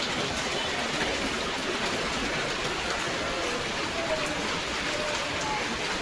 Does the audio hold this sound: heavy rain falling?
yes